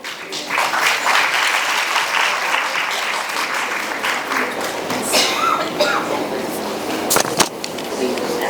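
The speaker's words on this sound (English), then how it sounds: "Please give them a big round of applause." A big round of applause from the audience at a women's entrepreneurship day event, dense clapping building quickly and continuing throughout, with voices and a few sharper knocks near the end.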